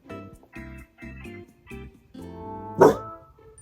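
An indoor dog barks several times in quick, evenly spaced bursts, then lets out one louder, sharper bark near the end.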